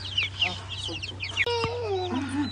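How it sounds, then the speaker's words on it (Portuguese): Chicks peeping among a small flock of chickens near a cleaned henhouse floor, with short high chirps scattered throughout, a louder rising peep near the middle, over steady low hum and some clucking. "É o pintinho, Maria."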